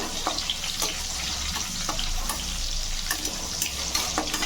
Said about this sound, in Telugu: ఉల్లిపాయలు కొంచెం వేగాయండి